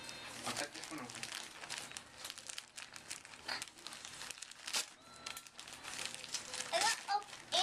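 Christmas presents are unwrapped, wrapping paper crinkling and tearing in bursts close by while adults and children talk over it.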